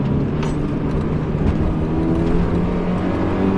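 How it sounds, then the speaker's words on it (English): A Mazda MX-5 NA Miata with pop-up headlights and a 4-cylinder engine drones steadily up close, a continuous loud engine tone holding throughout with no voices. "Not the most inspiring sounding 4-cylinder, but it definitely increases in pitch and lets you know when it's reaching its red line."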